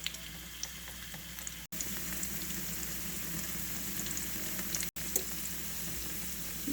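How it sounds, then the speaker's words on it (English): Fondant potatoes brown in a pan, frying with a continuous close sizzle and faint bubbling and two brief dropouts, with no talking over it. "cook these until they are good and brown on the bottom"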